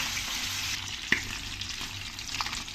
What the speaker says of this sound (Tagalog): Saka tayo maggigisa ng bawang, sibuyas, kamatis.